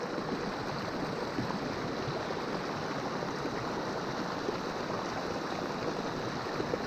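Rough winter water on the Middle Fork of the Holston River near Marion, Virginia rushes in a steady, dense broadband wash, close and even throughout with no voices.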